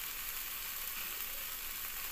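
Spices stirred into pumpkin, potato and okra in a pan, a steady soft sizzle of frying vegetables continuing evenly throughout without voices.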